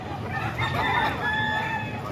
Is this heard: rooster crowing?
yes